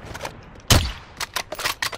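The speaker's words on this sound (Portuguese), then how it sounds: "Tô dando tiro na parede." A sharp gunshot crack followed by a quick run of lighter shots in Call of Duty: Warzone, close and punchy, with no speech.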